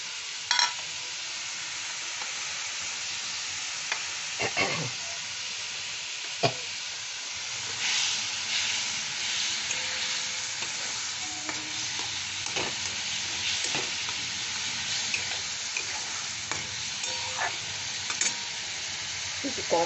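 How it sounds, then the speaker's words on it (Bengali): Chhana (cottage cheese) stirs and fries in a pan, with a steady close sizzle running throughout and scattered scraping knocks from the stirring spoon. "ছানাটা সবটাই দিয়ে দেবো।"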